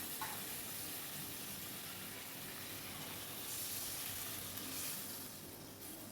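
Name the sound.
water added to a sizzling vegetable curry in a pan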